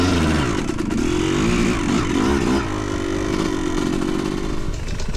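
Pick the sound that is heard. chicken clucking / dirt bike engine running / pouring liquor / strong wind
dirt bike engine running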